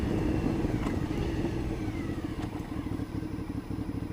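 An Aprilia Shiver 750 motorcycle rides through a residential street, its engine a continuous close drone with a rumbling low end and faint pitch sweeps as the revs change, wind noise layered over it.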